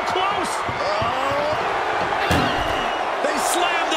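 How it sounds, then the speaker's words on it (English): A door slams shut during an ambulance match in a wrestling video game amid crowd noise, with a sharp impact near the middle and smaller thuds, under excited commentary. "And they can slam this door shut."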